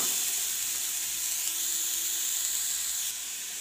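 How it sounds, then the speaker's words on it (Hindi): Papaya pieces fry in hot oil in a kadhai over a gas flame, giving a steady close sizzle and hiss that continues evenly with no talking. "देखिए, हमारी कढ़ाई गर्म हो चुकी है, उसमें हम ऑयल भी ले चुके हैं। अब इसमें हम अपना पहले पपीता लेंगे"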